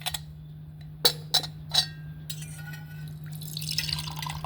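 Hot water is strained from sliced medium red onion, starting with a few distinct close drips and then a soft, trickling pour that continues to the end.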